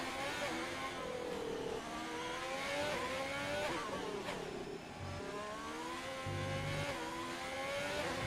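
Race car engine in a sim racing game lap, a continuous mid-loud whine rising and falling through gear changes and cornering, with brief lifts of the throttle and occasional low thuds.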